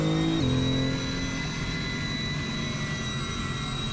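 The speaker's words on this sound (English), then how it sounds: "This is the car that sounds like an airplane." A BMW E46 in a driving simulator game, modded to sound like an airplane, gives off a steady jet-like whine with a falling tone near the start, then a sustained high engine hum, alone without talk.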